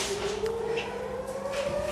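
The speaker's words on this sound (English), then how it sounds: "You can hear the sirens right now." Air raid sirens wail during an Iranian missile and drone attack on Israel, a steady rising tone sounding continuously through the clip, somewhat muffled as if heard from inside a bomb shelter, with faint background noise.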